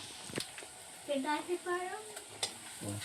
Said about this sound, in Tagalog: lagyan na natin tong tomato paste